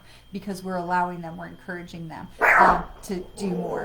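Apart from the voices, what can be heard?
dog barking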